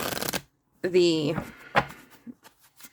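Tarot cards are shuffled overhand during a card reading, giving short papery riffling bursts separated by pauses, with a voice speaking briefly between them.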